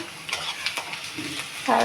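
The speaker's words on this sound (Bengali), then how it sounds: "পেঁয়াজটা লাল লাল হয়ে ভাজা হবে" Onion sizzles in hot oil in a pan for a light chicken curry, a steady frying hiss with a few soft stirring scrapes throughout.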